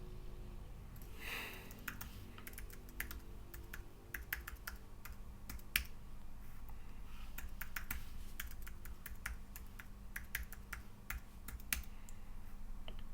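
Someone types a password on a computer keyboard, the keys clicking in quick, irregular taps close by over a faint steady hum, with no voices.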